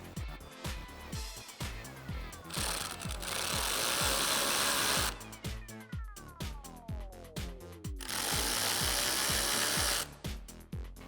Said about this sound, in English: with your 7mm socket, tighten them down